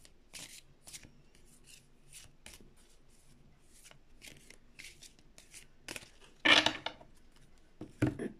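Oracle cards being shuffled by hand in short bursts of riffling and sliding card noise, close and fairly quiet, with a louder flurry near the end and no talk.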